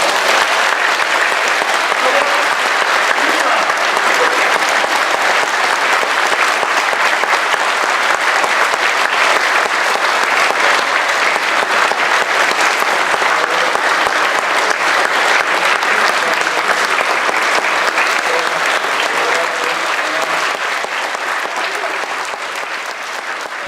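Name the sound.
applause for three graduates at a church graduation mass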